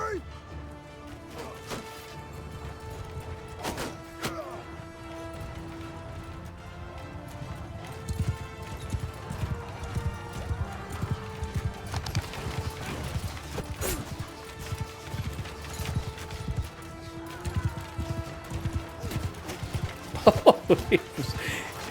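Horses galloping in the video game Mount & Blade II Bannerlord, a steady run of clip-clop hoofbeats through a battle scene with scattered crashes and clashes, loud throughout and building near the end.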